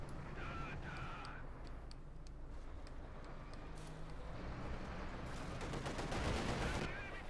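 Machine gun and rifle fire in the Company of Heroes 2 strategy game, 1v1 match, dense continuous crackling gunfire with bursts over a busy battlefield din, under a faint voice.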